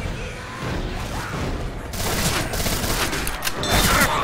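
Rapid sustained gunfire from the zombie co-op shooter Left 4 Dead 2, a dense continuous barrage that swells louder halfway through, with no speech over it.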